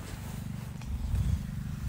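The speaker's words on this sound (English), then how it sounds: "Oh, you're feeding the cats." Cats purr steadily while being fed, a low continuous rumbling throbbing close by with no talk over it.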